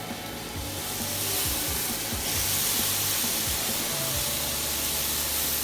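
Steak fajitas sizzle loudly and steadily on a Weber Kettle grill, a dense close hiss that flares briefly as the meat is shifted.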